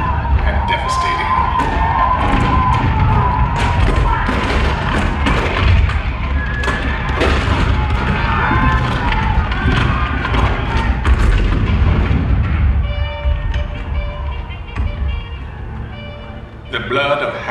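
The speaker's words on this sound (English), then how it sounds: "The cannon spoke for war, bitter, violent, and devastating." Booming cannon fire for a Fort Sumter show in Liberty Square, a series of heavy thuds and blasts under a narrating voice and crowd noise, with music near the end.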